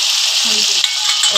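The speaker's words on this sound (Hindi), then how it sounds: "अब हम इसमें डाल रहे हैं टमाटर, और ये मसाले नमक, मिर्च" Tomatoes and spices including salt and chili drop into a loud, sizzling pan, a steady broadband frying hiss filling the whole moment with a few soft stirring scrapes underneath.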